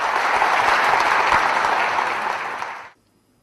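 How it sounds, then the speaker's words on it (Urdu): A hall full of guests at a government book launch ceremony claps loudly for Pakistan's defence minister, a dense, sustained wave of applause that tapers and stops abruptly near the end. "آپ کی بھرپور تالیوں میں پاکستان کے وزیر دفاع خواجہ محمد آصف."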